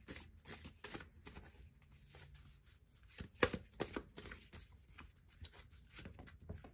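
Tarot cards being shuffled by hand in quick bursts of riffling and soft slaps, close and fairly quiet, with brief pauses between passes.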